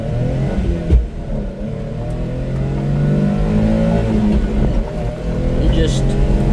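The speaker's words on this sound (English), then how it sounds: "I'm just going to take off here from a dead stop and give it some gas here from a dead stop" A Suzuki dump truck engine pulls away from a dead stop in first gear, a steady low rumble that rises gradually in pitch and loudness as it accelerates, with a brief knock near the start.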